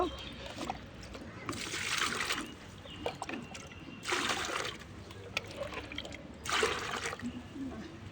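Water poured into containers makes three short splashing, trickling bursts, fairly quiet, with a voice talking in between.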